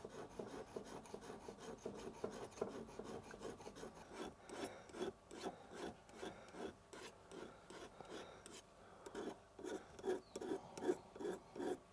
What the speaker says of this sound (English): I've scraped up the outside. The objective was to remove the file marks.